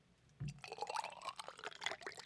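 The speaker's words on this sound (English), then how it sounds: "Let me just pour some of my water again." Drinking water poured by hand into a cup or glass, a splashing fill that starts with a thump and runs steadily for about two seconds, close and fairly quiet.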